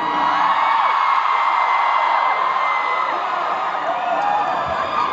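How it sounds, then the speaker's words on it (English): Dense indoor arena crowd at a concert screaming and cheering continuously at full volume, a steady roar of many voices with shrill whoops on top. "Scream louder than me!"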